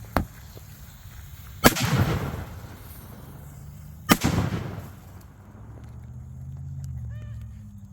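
Two sharp firework bangs pop out of a crackling brush fire of burning trees and brush, each followed by a brief hiss and crackle, heard outdoors at moderate distance with someone talking faintly.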